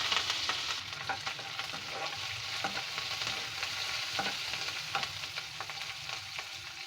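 Onion, green chillies and curry leaves fry in hot oil in a pan for a spinach and moong dal curry, giving a steady close sizzle with light stirring scrapes and no voices.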